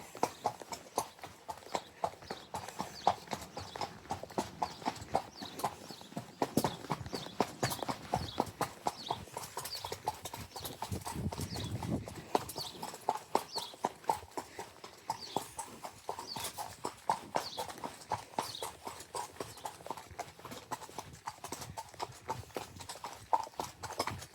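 Horse hooves clip-clop steadily along a hard British country lane in an even walking rhythm, close by, continuing throughout with little else around them.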